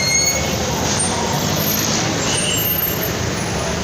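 Heavy expressway traffic on the North Luzon Expressway near LRT Monumento, a loud continuous roar of buses and trucks close by, with steady engine rumble and faint high hiss, no one speaking.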